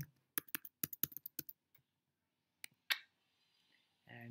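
Typing on a computer keyboard while entering an email address and password: a quick burst of close, sharp key clicks, then a pause, a couple of isolated taps, and a faint rustle at the end.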